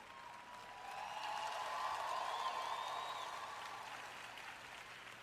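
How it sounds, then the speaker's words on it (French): Audience applause at a French-language Christian ministry sermon, a steady, moderately loud wash of clapping that swells and then slowly fades. "Je suis contente pour cet applaudissement de Mickey Mouse."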